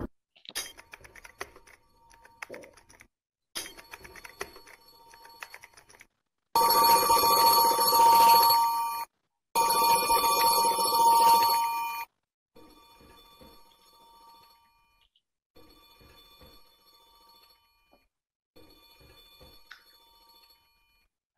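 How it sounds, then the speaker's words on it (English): A telephone bell rings loudly in two long bursts with a pause between, surrounded by quieter clinks and tapping from a room. "a phone was ringing"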